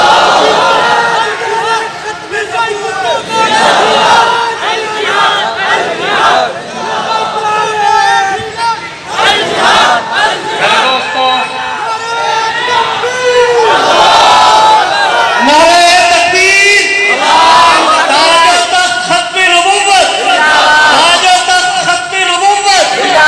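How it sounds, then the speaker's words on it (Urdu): Large crowd at a religious gathering at Jamia Ashrafia in Lahore chanting a religious slogan in loud, repeated bursts of many voices, with a leader's voice calling out between the responses. "لگائیں نا نعرہ۔"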